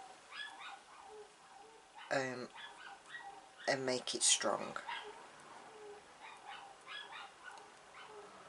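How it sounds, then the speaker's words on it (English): A dog barks and yelps indoors at a distance, several sharp bursts around the middle of the stretch with fainter yips after, while someone speaks quietly nearby. "it's the dog barking and yelping because the postman's probably been"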